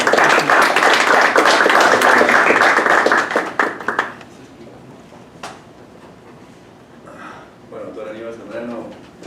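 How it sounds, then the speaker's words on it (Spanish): An audience claps loudly and steadily for about four seconds, then the applause cuts off, leaving quiet room noise and a voice starting to speak. "lo recibimos con un aplauso de todos"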